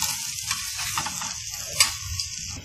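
Besan pakoras frying on a tawa with ghee poured over them give a steady close sizzle and crackle throughout, with a brief sharper spatter midway and low clatter beneath.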